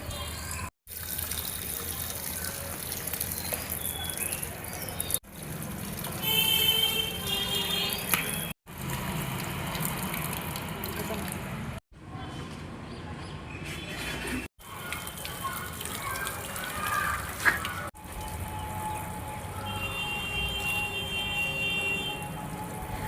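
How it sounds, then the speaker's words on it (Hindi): Water runs and trickles steadily while plants are watered in a home garden, a soft, close flow broken by several abrupt cuts, with faint background noise and no talking. "आज मैं अपने पौधों को पानी भी दूँगी"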